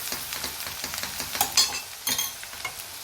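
A spoon stirs and mixes sizzling food with salt in a pan, giving repeated scraping strokes and soft clacks over a continuous hiss, close up with no voices.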